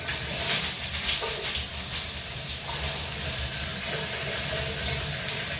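Hot water rushes from a Kohler shower valve, a loud, steady hiss of flowing water close by with some sputtering from air in the line.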